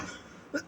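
A teacher giving a Hindi-language lesson lets out a single short, fairly quiet cough near the end of a brief, otherwise hushed moment.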